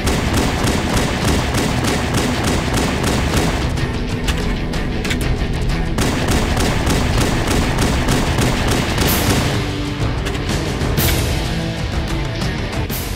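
Rapid, loud gunfire from Halo: Combat Evolved keeps up a dense, steady stream of sharp shots with no pauses, and there is no talk over it.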